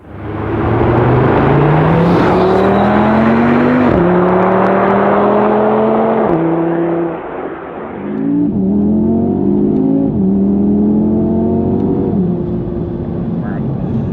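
An Audi TT RS Iconic Edition with a 400-horsepower engine accelerating hard on icy roads, the engine note climbing through several gears in rapid shifts, each surge rising then dropping, loud and close with a brief lift-off near the end.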